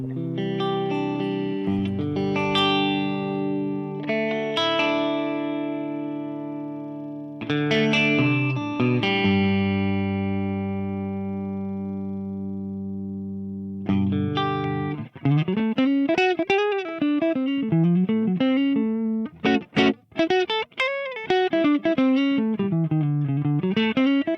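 A heavily distorted electric guitar plays through a TC Electronic Ampworx Hi-Gain Series JIMS 800 preamp, first with loud sustained power chords, then with fast, tight, chugging riffs and bends, all close and without talk.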